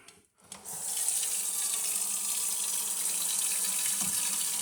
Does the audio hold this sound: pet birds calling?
no